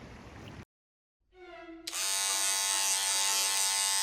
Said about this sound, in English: Yep, the part y'all have been waiting for. Actually shaving my head.